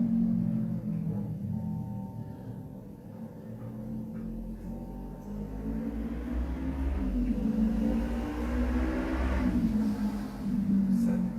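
A steady motorcycle engine rumble drones on throughout, swelling and easing slightly as it passes at a distance.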